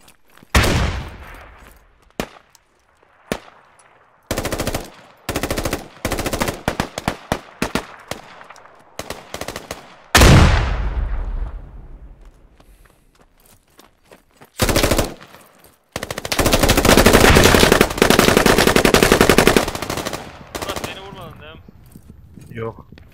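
Bursts of machine gun fire in the military shooter Squad, loud and close, some sharp single shots with echoing tails and then a long sustained automatic volley, with a voice talking between the bursts.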